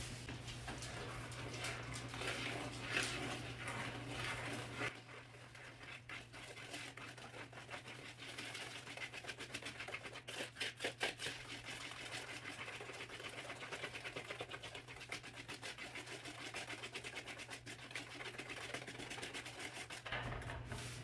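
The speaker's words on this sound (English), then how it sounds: "I'm going to mix that really well." Melted butter and sugar mixed together in a bowl for a baking recipe, giving a steady, unbroken whirring and rubbing texture that runs at an even level for the whole stretch, with no voices.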